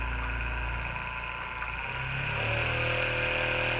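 A massage gun motor runs at its low setting, giving a steady, fairly quiet mechanical hum close by that shifts slightly in pitch partway through, with no talking.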